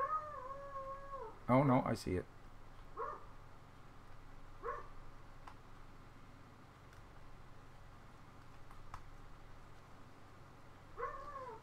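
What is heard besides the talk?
dog barking next door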